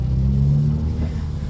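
Imola Red BMW G80 M3 fitted with an equal length mid-pipe revving in the rain, a deep rumbling exhaust swell that rises and then settles, heard up close with no talking.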